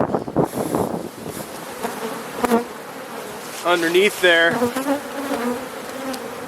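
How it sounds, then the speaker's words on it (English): A dense, steady hum of many honeybees buzzing up close on a hive frame, with a person speaking briefly over the swarm. "there's a lot of bees covering these"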